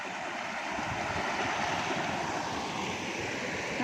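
Floodwater flows across flooded fields after heavy rain, a steady broadband rushing wash, loud and continuous with wind buffeting the microphone.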